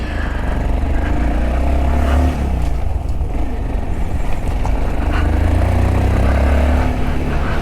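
A 2019 Honda Monkey motorcycle is ridden away, heard from the bike as a loud, continuous low engine drone mixed with wind rush and little change in pitch throughout.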